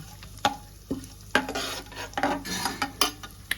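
A spoon scrapes and clacks around a pot as masala is stirred into hot oil for a mushroom masala pulao, with irregular metallic knocks over a continuous frying sizzle.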